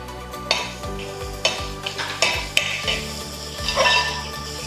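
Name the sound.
sautéing mushrooms with onions in a pan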